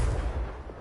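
A Confringo blasting spell cast in Hogwarts Legacy, a single heavy, deep blast that fades quickly.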